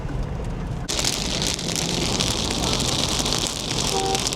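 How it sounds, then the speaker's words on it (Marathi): Rain falls steadily during a car journey near Hampi, a dense, continuous patter that suddenly grows heavier and louder after the first second, with wind noise over the microphone and no talking. "आम्ही तिथून निघालो आणि पाऊस पण सुरू झालेला आहे."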